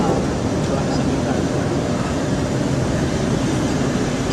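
A Chinese-built locomotive, number 1801, hauls a container wagon train on a Madagascar railway, giving a steady, broad rumble that holds at an even loudness throughout with no distinct clanks standing out.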